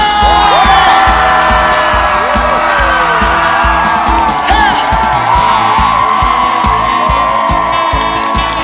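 A Korean concert audience claps and cheers steadily along with the music, a broad crowd roar with whoops and rhythmic applause holding loud throughout beside a singer's sustained tones.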